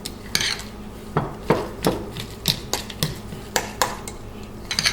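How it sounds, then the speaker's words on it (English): A spoon or whisk clinks against a bowl while deviled egg filling is mixed smooth, giving a close, irregular series of sharp scraping taps with short pauses between strokes. "And just mix it, make sure it is very, very smooth."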